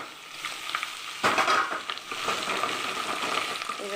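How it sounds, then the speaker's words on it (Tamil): Eggplant and curry leaves frying in oil in a pan for bisi bele bath, a steady close sizzle with a sharp burst of crackling and some stirring scrapes partway through. "இது நல்லா எண்ணெயிலே வதக்கணும்."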